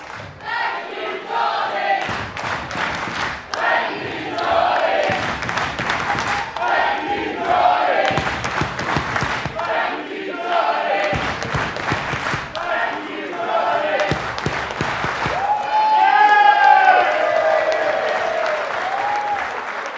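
Wrestling show crowd breaking into bursts of applause and cheering, loud and sustained with brief pauses between waves, some shouts rising above the clapping.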